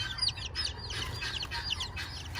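Six baby chicks peep and cheep continuously in a rapid, overlapping high chatter, close and fairly loud, with no talk.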